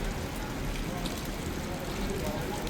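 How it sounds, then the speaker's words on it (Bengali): Steady, even hiss of rain falling, a continuous wash of patter with no clear breaks. "কি পরিমাণ বৃষ্টি আছে বোঝা যায়"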